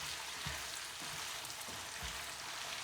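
Pasta tossed with Brussels sprouts and pancetta in a hot pan, a faint steady sizzle with a few soft low thumps of stirring, quiet and close with no talking.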